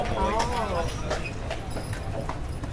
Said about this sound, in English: all of our horses, they're all Percherons and they're all boys.